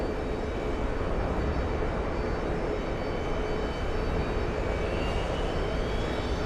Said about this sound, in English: C-17 on final.